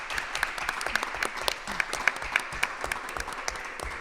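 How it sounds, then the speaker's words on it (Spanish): An audience applauds at a literary arts festival, producing moderately quiet, slightly sparse clapping in which individual claps stand out in an uneven rhythm, with no voices over it. "Un aplauso, por favor."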